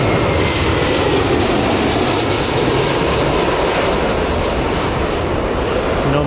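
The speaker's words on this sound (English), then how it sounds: "capture that Jet2 coming in, which is literally now" A Jet2 airliner arriving at Newcastle Airport roars loud and close in a continuous, broadband jet-engine rush that stays steady throughout.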